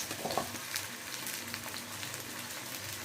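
Onion and green chilies frying in oil in a pan with a splash of water, a steady bubbling sizzle with light stirring clicks throughout, close and fairly quiet.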